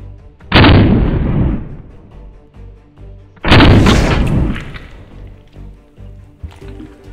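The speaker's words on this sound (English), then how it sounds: "Shotgun time with buckshot." Two loud, close shotgun blasts of buckshot roughly three seconds apart, each a sharp crack trailing into a long rumbling decay, with softer handling noises between them.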